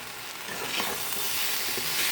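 Taro stolons (kochur loti) fry in a pan with a bright, dense sizzle that builds slightly, interspersed with faint stirring, heard up close with no talking.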